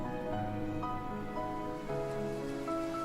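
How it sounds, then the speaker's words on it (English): Rain falling in the Love and Deepspace video game, a steady even patter heard alone under sustained musical tones. "One day, rain from the mortal realm reaches the Nether realm."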